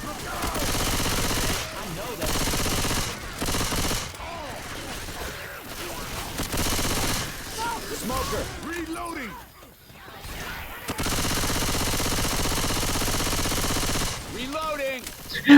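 Loud, dense bursts of automatic and rapid gunfire from the zombie shooter Left 4 Dead 2 run almost continuously, with a brief lull near the middle, while players talk over the action.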